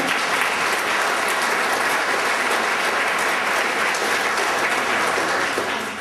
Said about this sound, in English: Give yourselves a big round of applause just for coming in.